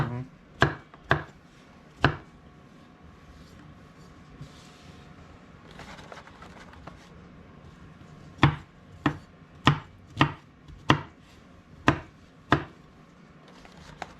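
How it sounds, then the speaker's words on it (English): A knife roughly chops ingredients for a smothered meatloaf on a board, with close, sharp chops: three quick ones, a pause, then a steady run of about eight evenly spaced strikes. "It's kind of a rough chop."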